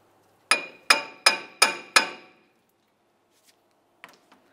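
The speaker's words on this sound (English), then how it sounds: "We're going to carefully use this to break the wheel bearing free from the knuckle." Five sharp metallic hammer blows ring out in a steady rhythm as a wheel bearing is knocked free from the steering knuckle of a 1995-2001 Ford Explorer 4WD, followed by a few faint clinks.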